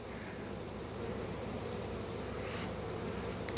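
A honeybee close by gives a steady, soft buzz that holds evenly throughout with no talking.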